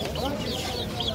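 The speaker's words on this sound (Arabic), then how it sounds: "شوف الدجاج كله نظيف." Chickens cluck amid the busy din of the Souq al-Ghazl bird market in Baghdad, brief bird calls mixed into steady crowd noise and nearby voices of people talking.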